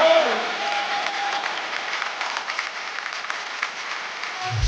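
Studio audience on the Kapil Sharma comedy show applauds the full cast of Jawaani Jaaneman, a steady, fairly loud wash of clapping and crowd noise lasting throughout, with a voice briefly audible at the start.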